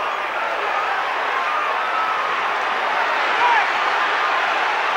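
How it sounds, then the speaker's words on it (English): A boxing arena crowd at the Sugar Ray Leonard versus Donny Lalonde fight gives off a steady, dense roar of cheering that swells slightly toward the end, with commentary heard over it. "And the crowd literally on their feet at the back of this arena now."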